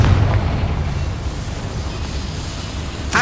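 A Confringo spell explosion in Hogwarts Legacy makes a deep rumbling boom that slowly fades under a low roar, ending with a sharp burst.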